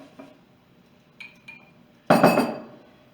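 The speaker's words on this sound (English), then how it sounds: "I'm going to give it a quick stir." A metal spoon clinks against a pressure cooker pot while soup is stirred: a few faint taps, then a louder clattering scrape that fades, close by and with no talking.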